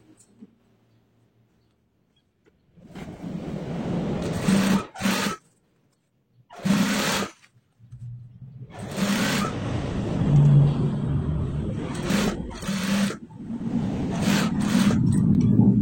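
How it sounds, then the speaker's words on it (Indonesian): A sewing machine topstitching along the edge of a school uniform sleeve cuff runs in several close bursts of mechanical stitching separated by short pauses. "Kita jahit setik tindis di pinggirannya."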